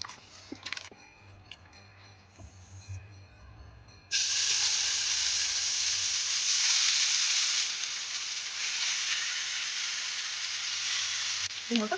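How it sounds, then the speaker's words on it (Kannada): Marinated chicken hits hot oil in a pan and erupts into a loud, steady sizzle that holds for several seconds, preceded by a few quiet clicks and handling noises. "ಇವಾಗ ಇದು ಎಣ್ಣೆ ಕಾಯಿದೆ ಅವಾಗಲೇ ಮ್ಯಾರಿನೇಟ್ ಮಾಡಿಕೊಂಡಿದ್ದಲ್ಲ ಅದನ್ನ ಅದಕ್ಕೆ ಹಾಕ್ತಾ ಇದ್ದೀನಿ"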